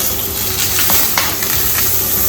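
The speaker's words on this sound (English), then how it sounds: "so we go ahead and sear the other side of the fish" Fish searing in a hot pan, a loud, steady close-up sizzle with a few brief spits and crackles and no talking.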